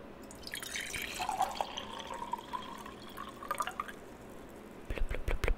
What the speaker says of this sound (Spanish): eso es el sonido del agua